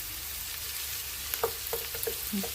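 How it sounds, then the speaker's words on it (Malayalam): Chopped ginger frying in coconut oil for a sardine curry, a steady soft sizzle with a few clicks and scrapes from stirring, close by and fairly quiet, with no talk. "ഇനി ഇതിലേക്ക് നമ്മൾ അരിഞ്ഞു വെച്ച ഇഞ്ചി ചേർക്കാം"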